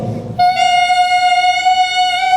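Clarinet and saxophone mouthpieces blown on their own by a school band: a reedy, buzzing tone held steadily after a brief rustle, a bright nasal squeal sustained to the end.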